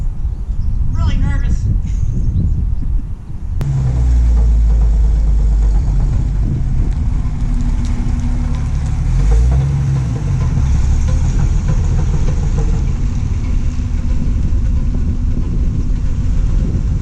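A car with a knocking engine runs steadily as it is driven off for a short spin, a low continuous rumble heard close by beneath someone talking.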